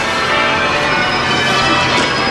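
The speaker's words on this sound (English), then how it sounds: "nothing like the church bells, practicing the church bells of St Beltars" Church bells ring in a dense, continuous wash of overlapping tones, loud and steady with no pauses.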